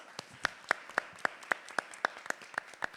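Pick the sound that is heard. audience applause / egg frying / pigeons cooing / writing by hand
audience applause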